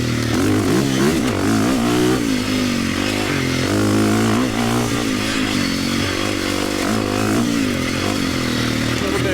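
A KTM 350 EXC-F dirt bike race build revs hard while being ridden, its engine note rising and falling continuously at close range, loud and steady throughout with no talk.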